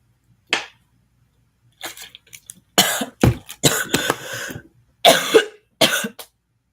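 Several harsh coughs in separate bursts, close and fairly loud, with short quiet gaps and a throat-clearing sound between them.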